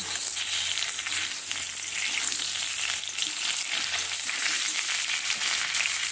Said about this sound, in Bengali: আলুটা ভাজা হয়ে গেছে এবার ঝিঙেটা দেব